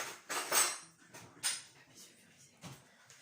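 A tablespoon scooping sugar from a container for a chocolate fondant cake, a few close, soft scraping and clinking strokes of metal against a bowl, quiet and spaced apart with no talk.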